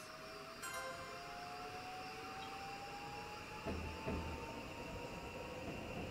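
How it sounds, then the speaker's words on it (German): A green Yamanote Line commuter train runs in the Densha de Go train game on Switch. A steady, quiet electric motor whine slowly rises in pitch over soft rolling rumble, with a couple of faint clunks near the end. "Wir haben jetzt einen grüneren Zug, also einen etwas giftgrüneren Zug, und das ist halt quasi die Yamanote."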